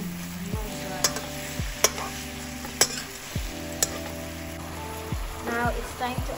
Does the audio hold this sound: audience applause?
no